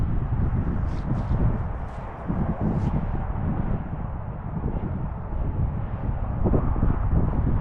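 Breezy, cold wind at Deer Lake in Schuylkill County, Pennsylvania, blowing as a steady, loud rumbling roar across the microphone, with a few faint higher sounds near the start.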